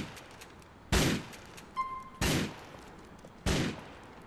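Three loud, isolated gunshots ring out in Grand Theft Auto IV, each a sharp crack with a short decaying tail, spaced about a second apart over a quiet background.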